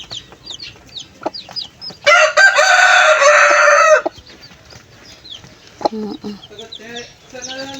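Ten newly hatched chicks and a mother hen make high peeping chirps and clucks up close, broken by a loud two-second crow, with some talking in the background.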